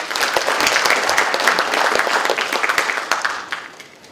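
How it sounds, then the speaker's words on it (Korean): An audience at a political debate forum applauds to welcome the Democratic Party leader, a loud, dense burst of clapping that holds steady and then thins and fades toward the end. "박수로 환영해 주시기 바랍니다."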